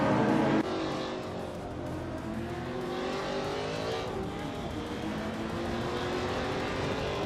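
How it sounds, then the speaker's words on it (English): A 1995 Audi RS2 Avant racing in a driving game, its engine droning steadily with rising and falling revs and gear changes, the car noise continuous and fairly close with no talk over it. "Shota Todoroki 39 is driving an Audi RS2 Avant from 1995."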